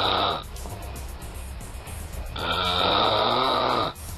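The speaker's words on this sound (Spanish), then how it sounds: "muchas veces esos ronquidos hacen que la persona pierda el aire, tal como se aprecia en este video" A sleeping adult snores twice in deep, rasping breaths, with a quieter stretch of breathing between them. The snores are heard close up and alone, with no talking.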